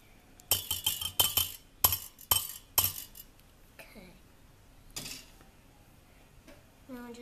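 Eggs with pepper being whisked in a bowl for a Sri Lankan omelette, heard as a burst of quick clinking, scraping strokes in the first three seconds, followed by quieter kitchen clatter and faint handling sounds.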